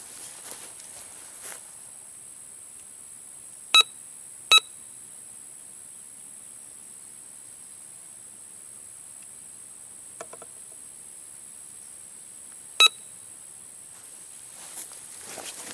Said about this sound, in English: Got a couple beeps, but not nearly as many.